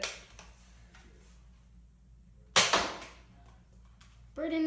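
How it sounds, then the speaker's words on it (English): A Nerf Zombie Strike crossbow blaster fires a dart with one sharp, loud snap partway through, followed by a brief decaying rattle; a short louder noise closes the clip, with quiet background otherwise. "now we have the Nerf zombie gun, shot or crossbow. So let's shoot it"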